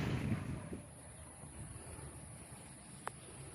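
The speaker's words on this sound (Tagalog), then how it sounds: "So medyo malakas ang hangin mga kalapatids." Strong wind blowing through an open microphone in Agdangan, Quezon, a steady broadband rush with a gust at the start and a brief sharp knock near the end.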